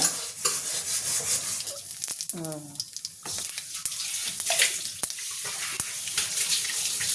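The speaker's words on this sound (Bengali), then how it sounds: "পাঁচফোড়ন আর তেজপাতা দেওয়া হলো ফোড়নে।" Panch phoron and a bay leaf hit hot oil in a kadai and set off a crackling sizzle with sharp clicks. A brief voice sounds partway through, and the spitting continues steadily up close.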